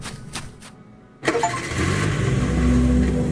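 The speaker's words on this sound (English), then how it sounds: "Yeah, rip that engine." A car engine in the horror game Welcome to Kowloon cranks and catches with a sudden loud burst, then keeps running and revving at a steady, rising roar with no one talking.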